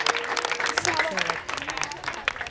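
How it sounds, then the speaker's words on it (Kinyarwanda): An audience breaks into scattered clapping at a gathering, the applause moderate and uneven, running beneath a speaking voice throughout. "ubaha amashyi menshi"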